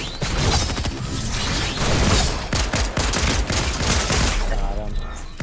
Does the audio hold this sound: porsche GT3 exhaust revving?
no